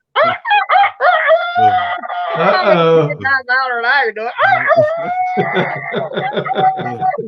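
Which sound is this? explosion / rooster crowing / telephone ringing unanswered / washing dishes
rooster crowing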